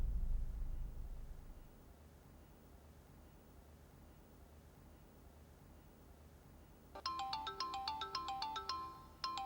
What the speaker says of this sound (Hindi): बबू भाई का फोन।